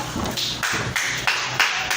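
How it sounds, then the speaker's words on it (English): A church congregation clapping in unison during a sermon: steady rhythmic claps about every third of a second, full and reverberant, with some background murmur. "Clap for Jesus."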